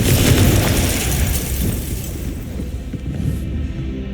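The Confringo spell in Hogwarts Legacy lands as a loud, fiery blast. The heavy boom and crackle fade gradually over several seconds into a rumbling tail, and no voices are heard.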